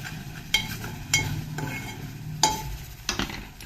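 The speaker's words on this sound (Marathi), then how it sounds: "मिक्सरचं भांडं धुवून टाकते मी" A mixer grinder jar being washed in a home kitchen, with several sharp clinks and knocks of the jar against metal, spaced irregularly over a soft background, and no talking.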